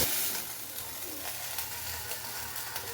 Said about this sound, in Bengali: মাছগুলো ভাজা হয়ে গেছে, এবার উঠিয়ে নেব